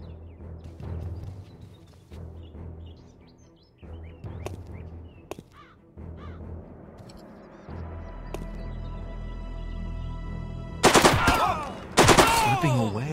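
Gunfire in the war game Hammer & Sickle: scattered sharp single shots early on, then a low rumble and two loud, dense blasts near the end.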